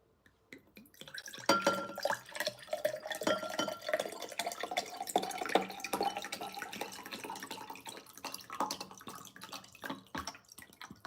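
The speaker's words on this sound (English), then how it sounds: "I have some spring water as well. Let me add some of that to my cup." Spring water poured from a bottle into a cup at close range, a steady trickling splash that starts about a second in and runs on unbroken to the end, with no talk.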